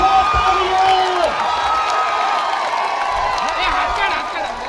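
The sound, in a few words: crowd applauding and cheering at rally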